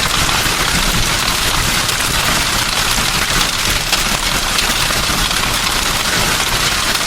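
A dense, loud patter of hailstones pounds down in a Lianyungang hailstorm without pause, a constant hissing clatter that fills the scene with no voices.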